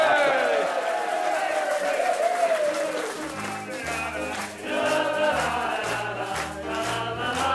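Crowd applause and cheering at a carnival gathering, loud and sustained throughout, with excited voices calling out and music starting to pulse underneath partway through.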